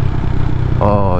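A CCM Flat Tracker Classic motorcycle engine runs on a ride, its loud close rumble continuous and rising in pitch near the end, with a voice talking over it.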